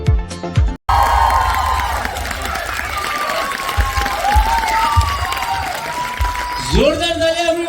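An audience applauds and cheers for a dance group at a live show, a steady wash of clapping and shouting with a brief cutoff near the start, mixed with voices and music.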